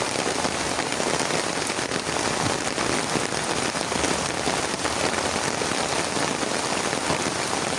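Steady, dense rain patters on a surface without letup, a constant close hiss of drops throughout.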